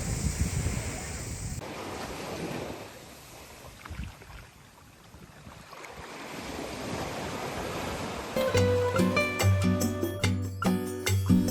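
Calm sea with gentle waves on the shore of Langkawi island, heard under steady wind buffeting the microphone, with a motor-like hum joining near the end.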